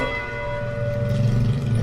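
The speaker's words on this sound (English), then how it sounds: "The church bell." A church bell in western Athens rings with a steady, sustained resonant tone over a low background rumble.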